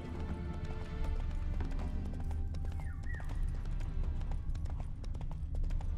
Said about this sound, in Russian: Кажется, конь захромал.